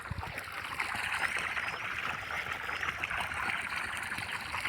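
Clothes are washed by hand outdoors on a summer morning at a farm, with a steady wash of splashing and trickling water, soft and continuous throughout and without speech.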